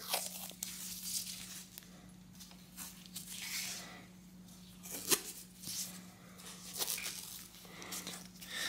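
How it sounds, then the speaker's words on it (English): Cloth handlebar tape is unwound from a vintage Trek bike's bars: soft, close tearing and crinkling in irregular bursts with brief sharper snaps, quiet overall and free of talk. "So then I'll continue unwrapping it here."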